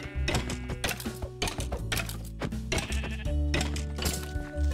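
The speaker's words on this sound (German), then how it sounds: "Da ist ein Schaf gekommen." Sheep bleat loudly in Minecraft, several clear calls in a row over steady game music, with no talk.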